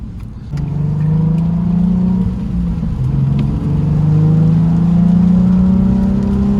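A Nissan 350Z with a Stage 1 tune drones steadily from inside the cabin while driving, its engine note rising and falling gently with throttle, loud and continuous, with no voices.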